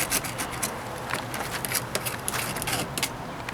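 Mineral buildup being scraped off a Thetford RV toilet, a steady, close, faint rubbing and rasping that repeats in short irregular strokes, with no talk over it.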